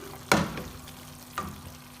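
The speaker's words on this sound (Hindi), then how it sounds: "और आलूओं की करेंगे इसके साथ ही हम भुनाई" Potatoes with spices fry in a pan, with two sharp stirring scrapes over a low, steady sizzle, close and otherwise quiet.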